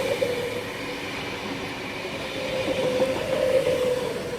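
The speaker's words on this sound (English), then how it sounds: "We have an 8-car V-set passing platform number 1 for a Central Sydney Terminal service." An 8-car NSW TrainLink V-set passes a platform at Cowan station, giving a steady rolling rumble with a faint high wheel squeal and a gentle clatter at moderate distance.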